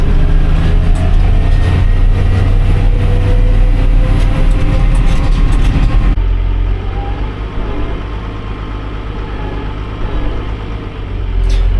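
A tractor's automatic parking brake engaging: a loud, steady rumble of engine and machinery that suddenly drops away partway through to a quieter hum, then swells briefly again at the end.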